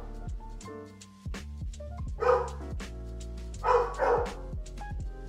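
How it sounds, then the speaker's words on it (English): A dog barks repeatedly close by, sharp loud barks in irregular bursts with a few higher yips, the sound standing alone without talk. "Sorry for the barking."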